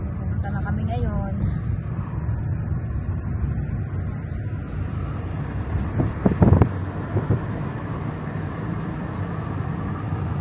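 Wind gusts across a lakeside swimming spot in Finland on a summer day, buffeting the microphone with a continuous low rumble and a brief stronger burst midway, with faint voices early on.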